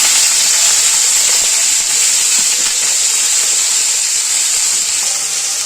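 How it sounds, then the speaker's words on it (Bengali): Cut potatoes, flat beans and peas hit hot oil in a pan, giving a loud, steady, hissing sizzle that holds without a break throughout. "এবার দিয়ে দেবো সবজি কাটাটা, আলু আর সিম, তার সাথে মটরশুঁটিটাও।"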